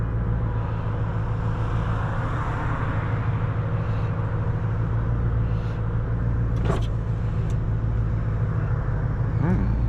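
A 500 hp 2003 Mustang Cobra drives through a tunnel with a loud, continuous engine drone and deep rumble throughout, and a sharper burst near the end as it downshifts.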